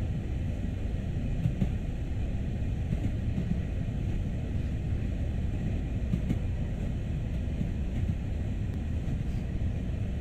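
A Long Island Rail Road train in the Train Sim World game runs at speed, giving a steady low rumbling drone with faint rhythmic clicks throughout, no voices.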